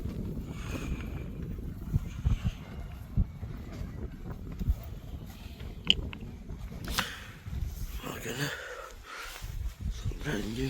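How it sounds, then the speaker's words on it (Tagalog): Strong gusting wind buffets the microphone on a mountain cliff, a low, rough rumble with irregular bursts, while a person talks faintly now and then. "Grabe lakas ng hangin o."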